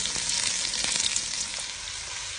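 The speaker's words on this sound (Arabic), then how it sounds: "هاي ضفنا الباميه وراح نحمسها لحد ما تاخذ شوع" Okra sizzles steadily in a hot pan, a close, loud and continuous frying hiss with scattered small pops and crackles throughout.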